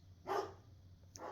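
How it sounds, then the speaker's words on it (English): A pet dog barking somewhere in the house: one short bark followed about a second later by another, both faint and a little distant, with no talking. "If you hear any barking, that's my dog."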